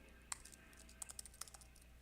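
Quick, light keystrokes on a computer keyboard during R coding, sounding as a loose run of about a dozen crisp clicks in two short bursts, close and fairly quiet, with no voice.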